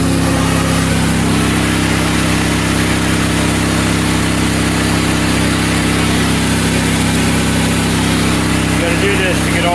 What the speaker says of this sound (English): before I hook up the pressure washer, knock the dust off